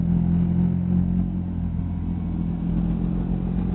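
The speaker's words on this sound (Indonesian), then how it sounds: "motor di belakang knalpot kayak gitu" Motorcycle exhaust drones in the background, a steady low rumble with slight pitch wobble and a faint clatter, continuous and moderately loud with no voices over it.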